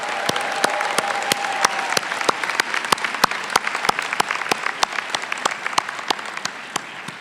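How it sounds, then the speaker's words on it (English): Applause from a graduation ceremony audience, steady dense clapping throughout with sharp individual claps standing out, fairly close and continuous with no talking. "Give yourselves a round of applause."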